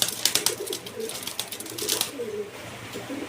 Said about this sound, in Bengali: ওরা আসলে নতুন খাঁচায় ঢুকেছে একটা কবুতর সেই কবুতরের প্রতি আক্রমণাত্মক বিহেভিয়ার দেখাচ্ছে